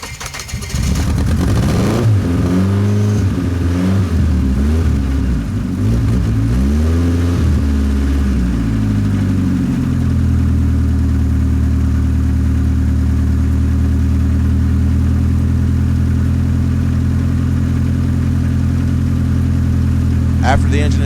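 A car engine cranks and catches after a jump start, then settles into a loud, steady idle that drones on without pause for many seconds.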